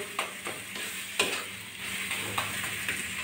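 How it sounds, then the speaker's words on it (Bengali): Coriander leaf vorta being stirred in a kadai over the heat, an even sizzle broken by a few sharp scrapes and taps of a spatula against the pan. "আমি আর 1 মিনিট মতো নাড়াচাড়া করে নামিয়ে নিচ্ছি।"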